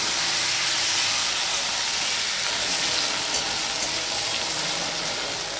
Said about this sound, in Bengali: এরপরে একে একে কেটে রাখা সবজিগুলো এর মধ্যে দিয়ে দেবো, খুব লাল করে ভাজা দিয়ে দেবো